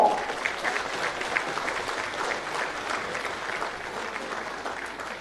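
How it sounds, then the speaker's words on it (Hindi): Sustained audience applause at a Jharkhand appointment letter ceremony for teachers, dense clapping from a large crowd starting strong and tapering slightly over several seconds. "तालियां हो"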